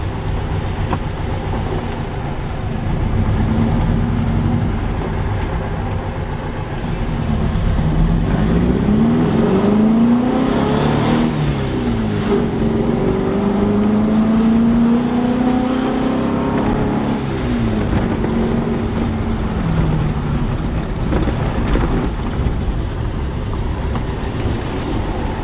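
A restored car climbing a hill in third gear at about 20 km/h, its engine giving a steady, fairly loud hum and drone that rises and falls slightly in pitch as it pulls, with no talking.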